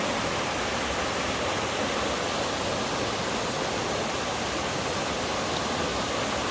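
A trickling waterfall at a high scenic viewpoint gives off a steady, even wash of falling water, constant and fairly close, with no voices.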